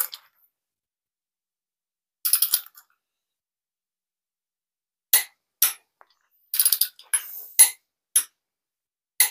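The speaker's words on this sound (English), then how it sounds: "I'll go ahead and torque that one back on" A ratchet wrench torques a main bearing cap bolt back on during a junkyard engine swap into a Porsche, giving short bursts of sharp metallic clicking separated by silent pauses, close and alone.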